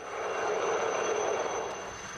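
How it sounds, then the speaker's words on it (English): A helicopter approaches during earthquake rescue work in Kashmir, giving a steady, moderately loud rotor and engine rumble that swells slightly and then eases over about two seconds, with no talking. "A chopper."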